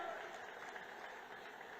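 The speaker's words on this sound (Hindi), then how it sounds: "जोरदार ताली बजाओ" Steady crowd applause at a political rally, a continuous even patter of clapping filling the whole short stretch at moderate level.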